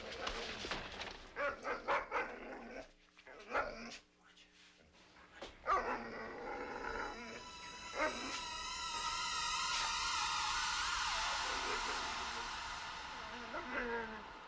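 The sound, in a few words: dog barking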